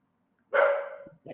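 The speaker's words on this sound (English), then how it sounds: "Is that a dog barking or something?" A dog barks once loudly and nearby, then gives a short second yap, breaking the silence of an online leadership summit call.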